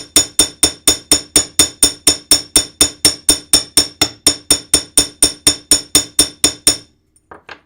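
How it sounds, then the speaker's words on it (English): A hammer beating a piece of metal flat, about two dozen sharp, evenly spaced ringing strikes in a fast steady rhythm, close and loud, stopping abruptly near the end followed by a few faint taps. "when I hammered it, it started coming apart"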